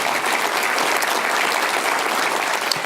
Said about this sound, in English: Let's give all of them one more round of applause for appreciation.